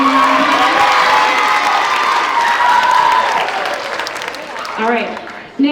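An audience at a children's Spanish immersion school event gives a loud, sustained round of applause mixed with children cheering and shouting, with crowd noise fading toward the end.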